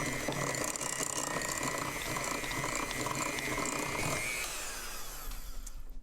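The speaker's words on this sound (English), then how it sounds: "Let's mix this up a little bit before I turn the beaters on." Electric mixer beaters whir steadily through powdered sugar frosting for a vegan carrot cake, a faint, even motor whine with a soft churning texture and no talking.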